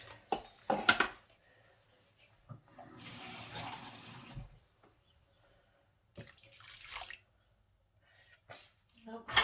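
Water is poured into a yarn dye pot in two short splashing bursts, separated by quiet gaps and a few knocks and clinks of handling.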